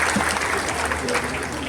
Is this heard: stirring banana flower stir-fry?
no